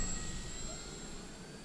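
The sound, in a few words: Trojan T-28B radio-controlled model plane making a slow pass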